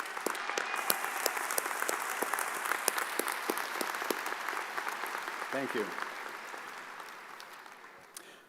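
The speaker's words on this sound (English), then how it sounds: "Let's give them all a round of applause." A large commencement audience at a university graduation ceremony claps steadily in a dense, sustained round of applause that gradually fades toward the end, with a brief spoken thanks heard over it.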